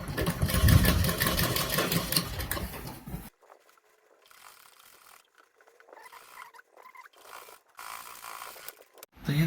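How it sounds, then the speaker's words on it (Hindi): A sewing machine runs steadily for about three seconds, stitching lace onto a gharara dress, then falls quiet apart from faint handling noises and brief bursts of stitching near the end. "इसी प्रकार हम दूसरे साइड भी इस लैस को सिलाई चला के इसको जमा लेते हैं।"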